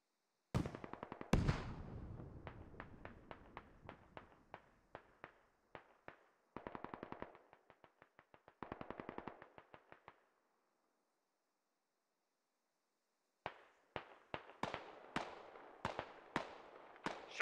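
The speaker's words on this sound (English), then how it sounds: "Shots east. Shot from the east, southeast." Gunfire in the tactical shooter game Squad: bursts of rapid automatic shots and single cracks, fairly near, separated by pauses and a silent stretch before a final string of spaced shots, no talk.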